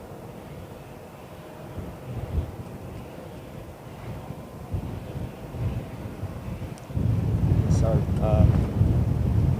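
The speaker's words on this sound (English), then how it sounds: "Okay, that was a gust." Blustery wind gusts buffet the microphone at London Heathrow Airport, a steady low rumble that swells sharply near the end, with someone speaking briefly over it.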